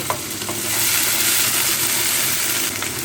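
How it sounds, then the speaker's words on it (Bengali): Fish roe fries in a pan on a stove with a loud, continuous, dense sizzle and a few faint clinks of stirring near the start. "মাছের ডিম ভুনা হচ্ছে যে পাশের চুলাতে"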